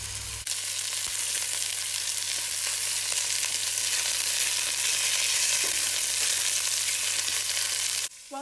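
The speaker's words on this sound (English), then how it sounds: "we're going to brown the meat in batches" Constant loud sizzling and crackling of beef browning in batches in hot oil in a pan, steady from start to finish, with a brief clatter at the end.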